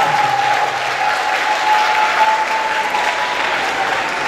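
An audience breaks into loud, sustained applause, dense clapping from a large crowd in an indoor event hall that holds steady without fading.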